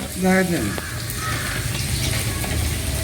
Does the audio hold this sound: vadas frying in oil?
yes